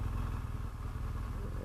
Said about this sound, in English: You hear the motorcycle.